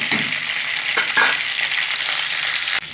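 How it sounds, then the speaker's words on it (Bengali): Drumstick flowers and leaves fry in a pan with a loud, steady sizzle and crackle, broken by a few sharp stirring scrapes and ending on a brief dip, with no voices. "খুব ভালো করে আমি একটু ভাজা ভাজা করে নেব।"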